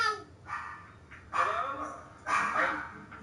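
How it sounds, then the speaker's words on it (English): Dog barking inside a PS4 horror video game, a few bark bursts over roughly three seconds at moderate loudness, mixed with game ambience and the faint voices of players talking. "The dog."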